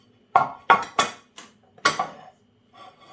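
A knife chops food on a cutting board in a home kitchen while a light diet dish is prepared: about six sharp, separate knocks spaced unevenly, close and clear against a quiet background.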